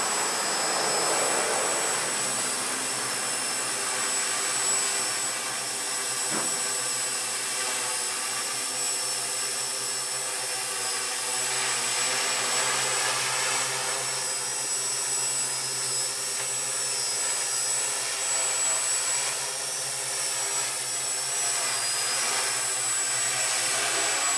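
A Walkera QR X800 drone hovering in flight, a steady loud whirring buzz of spinning motors and propellers with a high tonal whine, continuous and close, with no talking.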